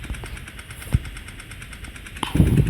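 Idling engine of a new motorbike running at a steady low rumble close by, with a few sharp knocks and a louder rev swelling near the end.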